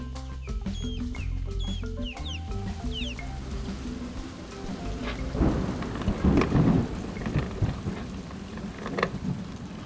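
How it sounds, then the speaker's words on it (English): A summer thunderstorm over a mooring in Florida: steady rain hisses throughout while deep thunder rolls and cracks build in the second half, with a few tonal bird calls early on. "As we moved into summer, thunderstorms became routine again, and lightning became a growing issue."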